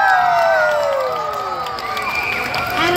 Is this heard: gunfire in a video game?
no